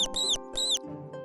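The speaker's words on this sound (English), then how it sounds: "mouse" Two shrill, high-pitched mouse squeaks in quick succession, loud and close, followed by a faint low rustle.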